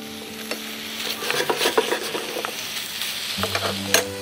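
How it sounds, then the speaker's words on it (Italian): Lamb browning in a pan with vegetables and herbs for Sicilian agnello a sciusciddu, sizzling steadily with repeated clacks and scrapes of stirring, close and fairly loud. "si fa rosolare in padella insieme a queste verdurine e gli aromi"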